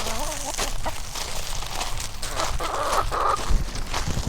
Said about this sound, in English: first I think we're gonna feed these chickens because they're clearly very hungry